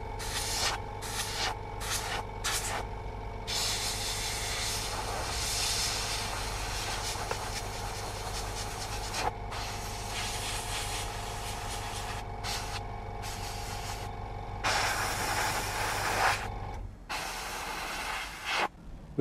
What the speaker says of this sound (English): we're going to go in and do lots of touch-up work with the airbrush